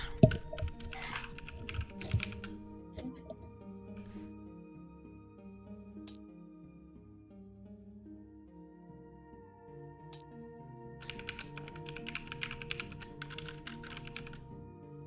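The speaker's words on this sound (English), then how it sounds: "I keep typing the thing I want to save as in the wrong place" Clicks on a computer keyboard during a Tabletop Simulator board-game session, typed in quick bursts at the start and again near the end, over a quiet background of sustained musical tones.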